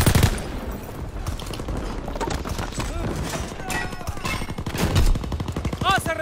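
Bursts of rapid gunfire and single shots crackle through a World War II video game battle, dense and loud, mixed with shouting voices and other clattering battle noise.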